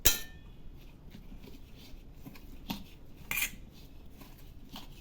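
Puffed rice and potato being stirred with coriander-cumin powder, turmeric, red chilli powder and salt in a bowl, giving soft scraping and occasional light clinks of a utensil against the dish, fairly quiet and unhurried.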